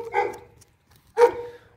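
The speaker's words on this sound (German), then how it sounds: "so einen großen Hund wie den Ricky auch zu halten" A large dog weighing over 30 kilos gives two deep, loud barks close by, separated by a short pause.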